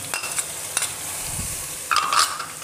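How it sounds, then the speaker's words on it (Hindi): Ginger garlic paste sizzles steadily in oil in a pan while a spoon stirs and scrapes, with a few sharper clinks standing out against the constant frying hiss. "थोड़ी सी इसकी भुनाई करते हैं।"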